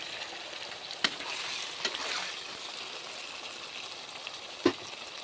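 Boiled cucumber frying in a pan for a cucumber curry with dried fish, a steady soft sizzle running throughout, broken by a few sharp clinks of a utensil against the pan.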